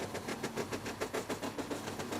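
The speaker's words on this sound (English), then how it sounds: "we have the steam tractor sound effect" A steam tractor sound effect built into a music track: a steady mechanical chugging with evenly spaced puffs about five times a second, close and moderately loud throughout, with no voices.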